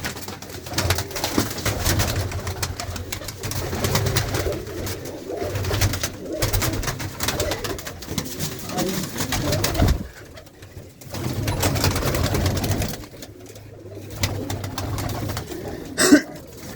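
Pigeons in a Punjabi household loft coo in a steady low throaty murmur that runs nearly throughout, with brief quieter gaps and a sharp knock near the end.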